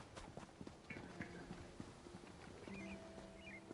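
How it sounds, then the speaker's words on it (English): A horse gallops quickly in Elder Scrolls Online, a steady run of rapid hoof clip-clops with faint game music and effects behind, fairly quiet overall. "you'll notice that my horse for this guy runs really, really fast"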